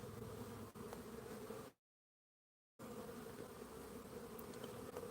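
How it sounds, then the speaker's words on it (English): Bees kept by a beekeeper hum in a dense, continuous buzz, close and steady, broken by a complete dropout of about a second before the swarm drone resumes unchanged. "These are my Father's Day bees."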